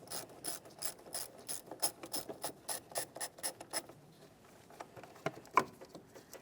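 Ratchet with an 8mm socket loosening a car battery terminal bolt, a fast run of crisp, close clicks for several seconds, then a few slower scattered clicks and a brief metallic tap.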